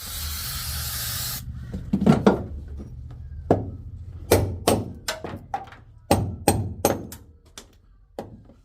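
Sound deadening being chipped off the interior panels of a Mitsubishi Magna: a brief spray hiss, then a series of sharp, irregular scraping knocks and thunks close by, spaced with short pauses.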